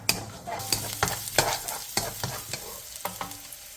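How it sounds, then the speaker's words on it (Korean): Garlic and carrots stir-fried in a couple of spoons of oil in a pan over high heat, with a steady close sizzle broken by repeated scraping strokes of a utensil, and no talking. "팬에 기름 2스푼을 두른 뒤 마늘과 당근을 넣고 센 불에서"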